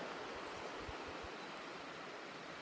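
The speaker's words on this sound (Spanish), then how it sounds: "solo con el sonido del agua del Ebro" Flowing water of the Ebro river in the Manzanedo valley, a steady broadband rush like a stream or small weir, constant and fairly near with no voices.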